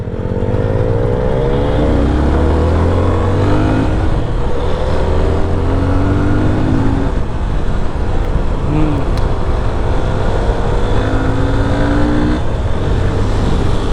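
A Yamaha FZ25 naked motorcycle, BS4 version, runs on the street, its engine droning steadily and loudly with shifting pitch as it accelerates, wind noise blended throughout, and no talk heard.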